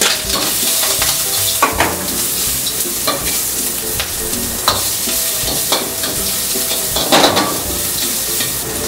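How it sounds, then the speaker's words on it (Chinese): Shrimp and minced garlic stir-frying in hot oil in a wok, with a loud, steady sizzle and repeated scraping stirs throughout and no talking. "先把虾仁煸熟"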